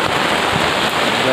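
Rain falling at a roadside food stall selling batagor and siomay in Liwa, West Lampung, a steady broadband hiss of drops lasting just over a second, fairly loud and continuous.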